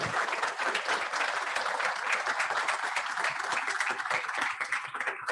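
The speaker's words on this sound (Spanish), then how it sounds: "Les pido un fuerte aplauso para ellos." A crowd applauds steadily throughout at a Rotary Club meeting in Buenos Aires, dense clapping that stays even in loudness from start to finish.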